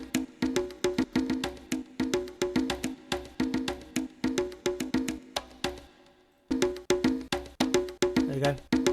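1970s-style raw underground disco percussion samples loop in Ableton: punchy drum hits and claps in a steady dance groove, loud and dense, with a brief dropout near the end before the beat resumes.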